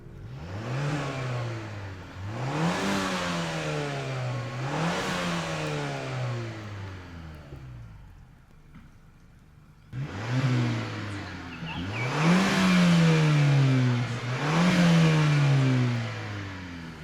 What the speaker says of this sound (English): if you're wondering what it sounds like to rev this Mazda 3 Turbo sedan, well, here it is beside my hatchback